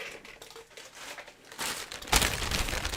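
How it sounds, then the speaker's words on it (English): A plastic bag crinkles and rustles close to the mic, starting as soft handling and swelling into loud, dense crackling as it is squeezed and scrunched. "Your plastic bag."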